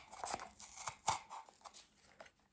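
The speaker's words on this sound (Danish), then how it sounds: "Tager en saks. Klipper i omkring." Scissors snip around a cardboard firework tube in a few crisp, close cuts with crunchy crinkling, fairly quiet and alone.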